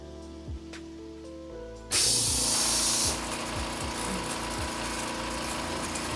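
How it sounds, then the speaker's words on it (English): An air compressor in a sublimation workshop turns on with a loud burst of broadband hiss and rushing air, then settles into a steady, continuous running drone that carries on to the end, with no voices. "I'll wait till this air compressor finishes."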